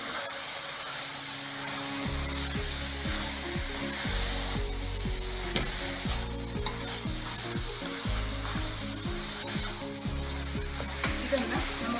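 A spatula stirs garam masala into beef curry in a frying pan, a continuous close sizzle with repeated scraping strokes, no talking.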